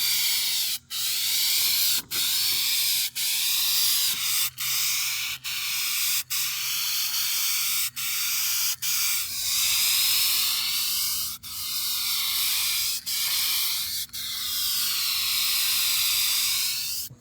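An aerosol spray can paints a Chevy GMT800 rocker panel in a series of close, loud hissing bursts, each broken by a brief pause, continuing steadily with no speech.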